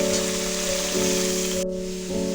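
Potatoes and chopped vegetables with salt fry in oil tempered with panch phoron, giving a steady, close hiss of sizzling under a constant background drone.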